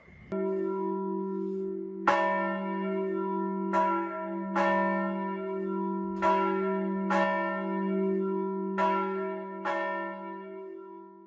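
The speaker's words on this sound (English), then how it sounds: "Central's bell is original to the building when it was built in 1895" The original 1895 bell in the bell tower of Central Presbyterian Church in Lafayette, Indiana, tolls about seven times at a slow, uneven pace, each deep resonant strike ringing out and humming into the next.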